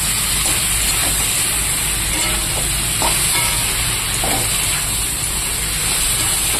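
Mixed vegetables being stirred while frying in a pan, giving a steady close sizzle and hiss with soft scraping stirs throughout and no talk.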